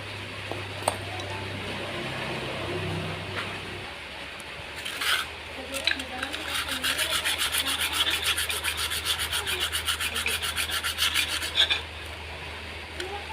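A badly scratched Yamaha Mio Sporty scooter piston being sanded with sandpaper, a close, steady run of rhythmic rasping strokes building after a quieter start, with a voice talking early on.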